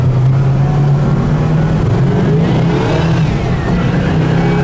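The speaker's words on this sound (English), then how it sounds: "It doesn't stop freaking squealing tires." A 1970 Pontiac GTO Judge accelerating hard, its V8 engine roaring loud and close with a strong low rumble that climbs in pitch, plus a steady high squeal from the tires.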